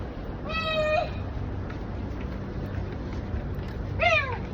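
A cat outdoors in the hot UAE gives two clear, drawn-out meows a few seconds apart, fairly close, over a low background hum.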